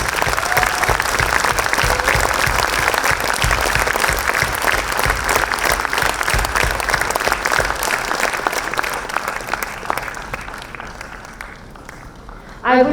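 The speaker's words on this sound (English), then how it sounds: "May we have a huge round of applause." Audience applause at an awards ceremony, a dense sustained burst of many hands clapping that gradually thins and fades toward the end.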